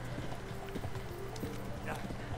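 Horse hooves clip-clop in a steady trotting rhythm in the video game Kingdom Come: Deliverance, under a busy background of ambient noise and talking voices.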